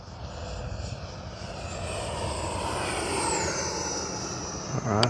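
RC jet aircraft making a flyby pass at a flying event, a broad steady turbine roar with a whine that rises and sweeps as it passes, close and loud throughout.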